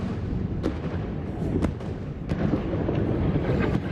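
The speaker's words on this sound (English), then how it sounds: "So these seem to be mortars. They are coming in very close." Incoming mortar rounds explode nearby in Israel, heard as three or four sharp booming impacts over a constant heavy rumble of wind and background noise, with no talking.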